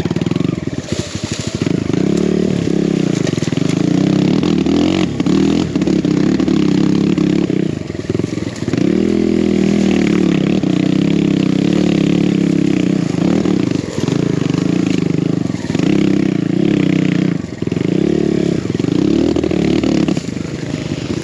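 A BBR Kawasaki KLX170RF dirt bike engine revs hard and continuously, loud and close, with repeated throttle blips and surging pitch plus some clatter from riding over terrain.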